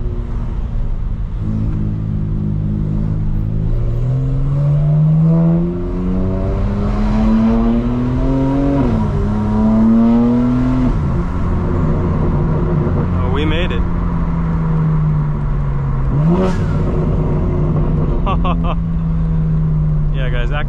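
A 2025 BMW M4 Competition xDrive with active sound design accelerates hard through repeated gear pulls, its rising engine tone climbing and dropping at each shift, loud and close inside the cabin, with a few sharp clicks.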